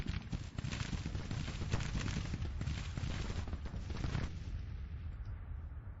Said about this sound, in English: Pender's guns seem to be having trouble firing from behind the parapet